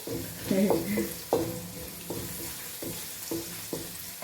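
Onions sautéing in a pan with a pinch of salt added, a steady low sizzle broken by several stirring scrapes and clatters of a spoon against the pan, close and moderately loud.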